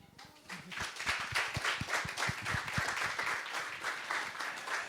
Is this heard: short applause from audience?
yes